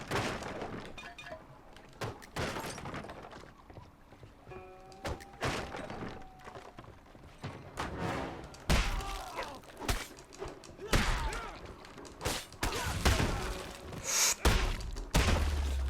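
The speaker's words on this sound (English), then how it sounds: "I am smashing boxes and crates in one hit now" Boxes and crates smashed in single hits in the kung-fu action game 9 Monkeys of Shaolin: repeated sharp cracking thuds and splintering breaks at irregular intervals, close and loud, with game effects and occasional voices between them.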